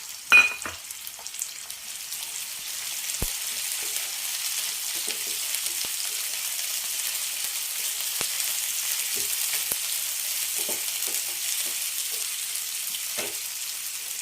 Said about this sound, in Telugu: కొంచెం వేగిన తర్వాత పచ్చిమిర్చి వేసుకున్నాం.